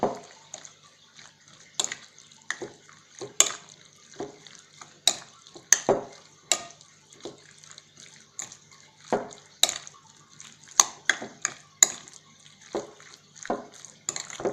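Kebab meat being mixed by hand with spices and marinade in a bowl, giving soft wet squelches and occasional sharp clinks against the dish, irregular and close, with no talking over it.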